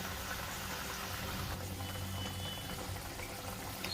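Fish curry gravy simmering in a pot for Bengali bata fish in mustard-poppy seed sauce: a continuous, fairly quiet bubbling hiss with a low steady rumble underneath, with no pauses.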